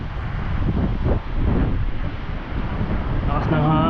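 Strong wind at a Michigan beach buffets the microphone in a constant low roar, with a brief voice and faint tonal sound near the end.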